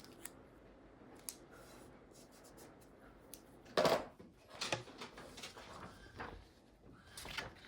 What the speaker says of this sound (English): Now going to tape it.